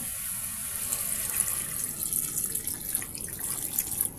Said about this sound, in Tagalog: Ngayon, pwede na tayo maglagay ng tubig.